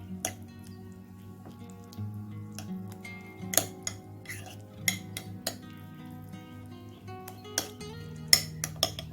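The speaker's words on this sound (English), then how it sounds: "Gonna mix everything." Marinade ingredients with lemon juice being stirred in a bowl, a spoon scraping and clinking against the sides in irregular taps and sharp chinks over a low background hum.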